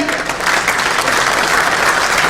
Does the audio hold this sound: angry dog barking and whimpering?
no